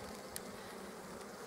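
A dense, steady hum of honey bees buzzing inside an opened garden hive, soft and continuous without any talk.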